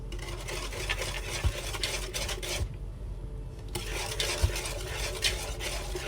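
Baking batter with brown and white sugar is stirred continuously in a bowl, a close, steady scraping and rubbing with occasional harder knocks and a brief lull partway through.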